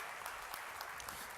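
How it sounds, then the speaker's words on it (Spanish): Soft, steady applause from a church congregation at a retreat, a distant continuous patter of many hands held at low level throughout. "Le da ese aplauso fuerte al Señor"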